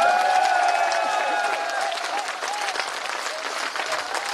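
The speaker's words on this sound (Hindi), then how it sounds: "एक बार हाथ उठाकर तालियां बजाकर उनका अभिनंदन करता हूं।" An audience honours soldiers and police with a sustained wash of dense applause, loud and continuous throughout, with a faint tonal background sound under the clapping early on.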